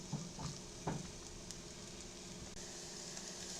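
Onions and ground beef sizzle in a pan with a steady, soft crackle and a few sharper pops near the start.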